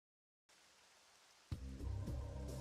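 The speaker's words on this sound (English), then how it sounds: "And I like the rain too." Rain ambience from the video game The Terror of Necromancy starts after a moment of silence as a soft, even hiss. Partway through it turns louder and fuller, and low pattering and tones join in.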